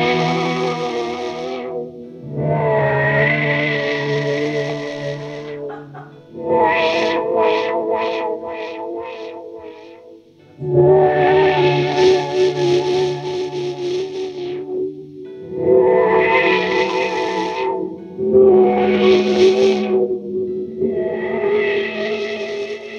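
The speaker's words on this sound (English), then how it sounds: "right now in your chain you're running a delay on top of it" Swelling guitar phrases wash in and out through a Chase Bliss Dark World pedal and delay, with echoing repeats and rapid stuttering pulses, each passage fading into the next.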